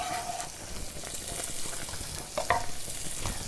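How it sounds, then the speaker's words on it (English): Garlic, mushrooms and onions fry in a hot pan for a pork and apple stroganoff, a continuous bright sizzle broken by occasional utensil scrapes and clinks, close and fairly loud. "So that's your lovely garlic, your mushrooms, your onions, all that's going to go into the pan."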